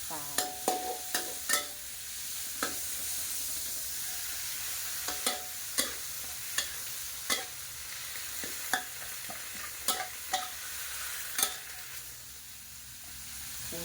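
Kale stir-fried with pork and salted fish in a pan, a soft continuous sizzle punctuated by sharp, irregular scrapes and clanks of a spatula stirring, close and moderately quiet.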